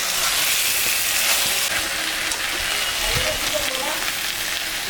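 Country chicken pieces sautéing in hot oil in a pan give off a loud, continuous close sizzle and crackle, steady and unbroken with no speech.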